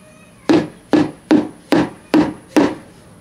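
Six separate knocks on insect-bored wood riddled with small holes, evenly spaced about half a second apart, close and fairly loud, each a short hollow rap with a quick decay.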